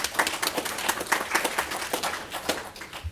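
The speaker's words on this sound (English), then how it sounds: "please give these folks a round of applause" An audience at a Villa Rica public meeting breaks into a round of applause, with many hands clapping in a dense, steady patter that holds for about three seconds at moderate distance and carries no talk over it.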